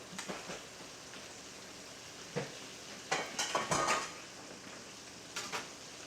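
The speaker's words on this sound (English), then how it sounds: "When you're frying in cast iron skillet like this, you want to make sure that the amount of oil is only about halfway" Almond chicken wings shallow-fry in oil in a cast iron skillet, giving a steady soft sizzle broken by a few louder clinks and scrapes of a utensil against the pan.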